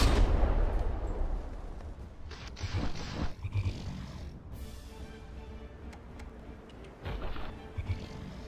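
Heavy naval gunfire from frigate secondaries in the combat game From The Depths, with a loud low boom at the start followed by several more muffled thuds and blasts through a rumbling battle backdrop.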